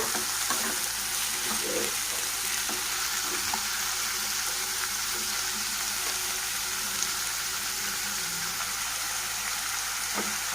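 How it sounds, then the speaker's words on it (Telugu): Ridge gourd pieces stirred and frying in a pan, a steady close sizzle with soft scraping from the stirring running throughout, no voices. "ఇలా పొట్లకాయలన్నీ వేసుకొని బాగా కలుపుకోవాలి."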